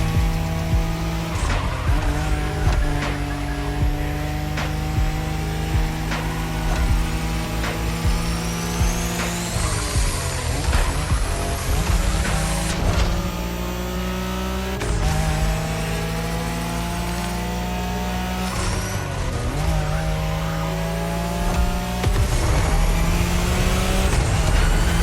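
A Nissan Skyline races on the Tokyo Bayshore route in The Crew Motorfest, its engine revving and shifting through gears with repeated tire squeals, loud and close throughout with no talking.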